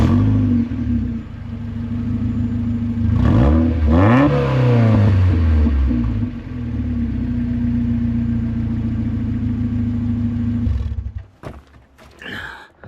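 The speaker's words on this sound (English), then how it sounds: "I've now got to start this up without an exhaust on it, well, without a back box on it" A Mazda MX5 engine started and running without its exhaust back box, giving a loud, raw idle with a sharp rev burst near the start, then settling to a steady drone before cutting off abruptly near the end.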